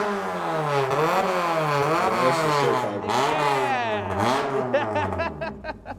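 A Kanjo-style Honda Civic exhaust revs repeatedly, its engine note sweeping up and down in rising and falling pulls, loud and close, with the revs growing choppier toward the end.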